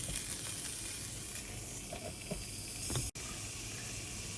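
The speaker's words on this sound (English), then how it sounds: "That hot dog is sizzling loud and cooking fast" A hot dog sizzles inside a Breville Personal Pie maker, a steady close hiss of frying with faint crackles and one sharp click near the end.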